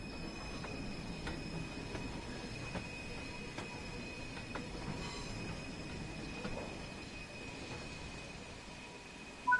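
Train Sim World 3 wagons shunt in the Peak Forest sidings, with a steady rumble, repeated metallic clanks and a sustained wheel squeal, and a sharper knock near the end.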